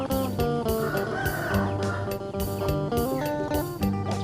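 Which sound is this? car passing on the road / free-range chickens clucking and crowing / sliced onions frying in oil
free-range chickens clucking and crowing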